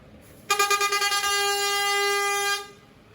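A loud, sustained vehicle horn blares in street traffic, with a few quick stuttering honks at the start before it holds steady for about two seconds and then stops.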